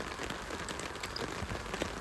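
Rain patters steadily on a tent at night during storm camping, a soft, even hiss dotted with faint individual drop taps, continuous and fairly quiet.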